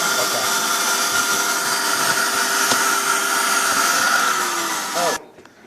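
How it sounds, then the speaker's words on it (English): A vacuum cleaner runs with a steady, loud whine and hum, then cuts off abruptly near the end, leaving near silence. "We've got a new vacuum cleaner bag here"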